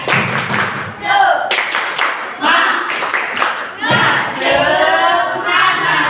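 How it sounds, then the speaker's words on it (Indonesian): A classroom group claps together in a patterned rhythmic cheer, bursts of hand claps and thumps in quick sequences, mixed with voices chanting along between the claps. "Kita tepuk semangat untuk semuanya."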